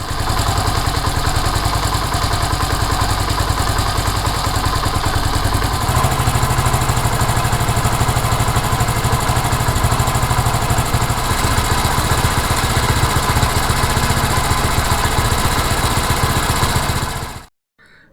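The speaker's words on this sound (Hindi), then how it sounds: "इस साउंड सैंपल में आपने नोटिस किया होगा कि एक पॉइंट ऐसा आता है जिस पे इंजन आरपीएम अप डाउन होना शुरू हो जाते हैं।" A Honda CD70 motorcycle engine idles steadily up close, its low mechanical putter loud and constant, with the idle speed shifting noticeably about a third of the way in before cutting off abruptly near the end.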